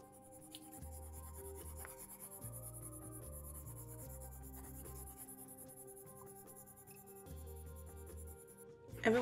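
A pencil crayon scratches and rubs across paper during a drawing session, soft continuous strokes with short pauses between passes, close up and quiet, while faint music plays underneath.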